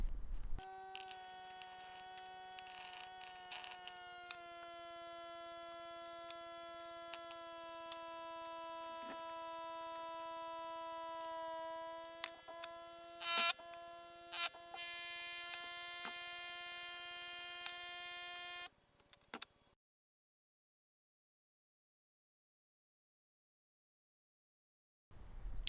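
A vacuum pulled through a glass frit filter in a home chemistry setup gives a steady mechanical hum with a strong tonal whine for about nineteen seconds, broken by a few sharp clicks, before falling silent.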